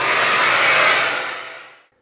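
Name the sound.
upright vacuum with hose extension cleaning dryer area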